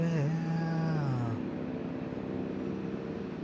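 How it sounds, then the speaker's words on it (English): Helicopter flying overhead during an outdoor live event, a steady loud rotor and engine drone filling the whole clip, with a brief voice-like tonal sweep at the start. "You can go away now, helicopter."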